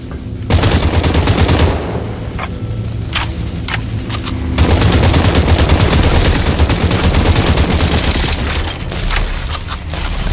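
Heavy automatic gunfire rattles almost without pause through a firefight in the VR shooter Population: One, with dense overlapping bursts and some separate single cracks, loud and close.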